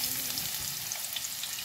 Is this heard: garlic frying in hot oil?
yes